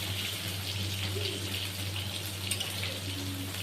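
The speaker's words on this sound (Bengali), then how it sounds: "এবারে অল্প জল দিয়ে মোচা আর আলু সবই একটু সিদ্ধ হতে দেব" Water pours and splashes into a pan holding banana flower and potatoes set to boil, a steady, moderate wash of running water with a low hum underneath.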